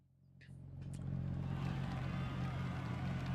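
A Porsche engine in the racing game Forza Horizon 6 swells from quiet into a loud, steady, droning growl that holds to the end.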